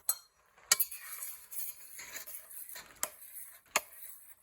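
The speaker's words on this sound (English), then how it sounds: "we're going to stir that around and mix it in until all of the sugar has been dissolved and mixed in" A spoon stirs cinnamon and sugar into a zucchini mixture for a zucchini crisp, with soft scraping and several sharp clinks against the bowl at irregular intervals, close and fairly quiet.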